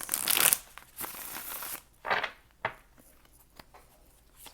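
Tarot cards shuffled by hand in a quiet room: a long riffling burst at the start, then a few shorter crisp flutters and soft taps, fairly close and with no talking.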